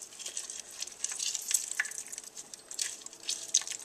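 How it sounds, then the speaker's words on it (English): Lime juice dribbling by eye into a citrus drink mix, a soft, faint trickle of drips and small splashes running steadily for several seconds, close by and alone. "it calls for 1/2 teaspoon of lime juice, and I'm just going to eyeball it"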